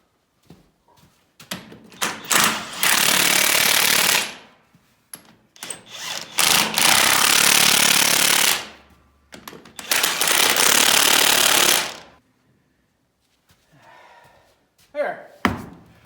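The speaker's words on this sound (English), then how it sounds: "Let me grab my impact and zap these on." Impact wrench fastening nuts, several loud bursts of rattling hammering, each lasting a couple of seconds, separated by pauses with small handling clicks.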